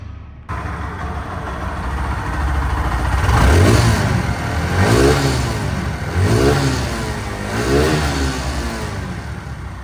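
A Pulsar NS 160 motorcycle engine revs in repeated surges, rising and falling several times over a steady running hum, close and loud.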